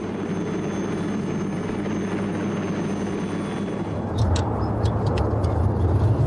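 The Pathfinder II ringtail ducted-fan helicopter flies past with a steady, loud rotor and engine roar that grows rougher and more pulsing toward the end; no voices.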